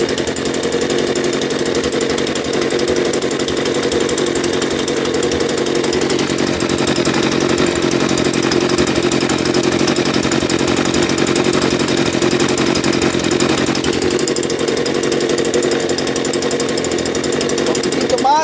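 A two-stroke engine idles on a carburetor test, the idle set slightly low, giving a loud, continuous, buzzy rattle that holds steady at close range for the whole stretch with no pauses.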